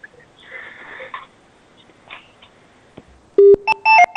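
A telephone rings in a TV studio for a call-in morning show: after quiet room sound, a few short electronic ring tones sound in quick succession, loud and close.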